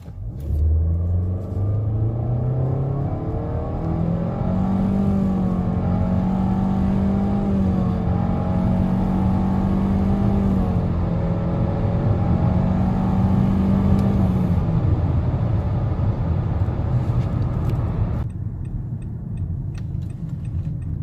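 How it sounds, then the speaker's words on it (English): A Nissan Altima 2.5 SV accelerates at full throttle in drive mode on flat ground, its engine droning as the pitch climbs steadily and then eases back near the end, heard from inside the cabin. "Alright, full throttle, flat ground, and drive."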